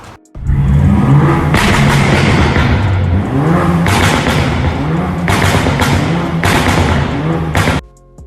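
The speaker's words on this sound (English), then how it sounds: "custom fabbed the active Autowork exhaust and made it dual outlet" A BMW 328i F30 with a custom-fabricated dual-outlet Active Autowerke exhaust roars loudly through several revs, with repeated surges, a deep rumble and thumping pulses between them.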